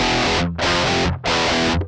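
An electric guitar plays through an ADA MP-1 Classic tube preamp and an Ignite Amps TPA1 tube power amp emulator, three loud distorted sustained chords in a row, each cut off briefly before the next.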